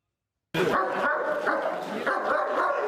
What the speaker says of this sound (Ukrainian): Як служать і на які подуги здатні службові собаки?